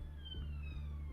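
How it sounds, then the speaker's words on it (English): A wailing emergency siren from The Walking Dead: Road to Survival game sweeps down steadily in pitch over a low droning background hum. "Sirens."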